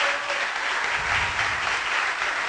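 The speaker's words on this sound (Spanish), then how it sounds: "un aplauso muy fuerte" Loud, dense audience applause at a televised 25th-anniversary celebration for a Mexican TV channel, steady crowd clapping filling the whole stretch with no voices above it.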